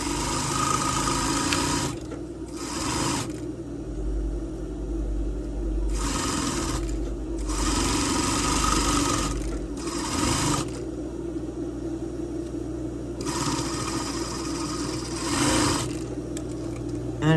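A sewing machine stitches stretch knit bra fabric in several short runs separated by brief pauses. The motor whirs close and steady and no one speaks.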